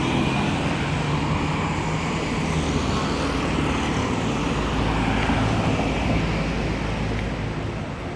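Heavy road traffic roars continuously and loudly around a Yamaha R1M motorcycle, a dense unbroken wash of engines and tyre noise.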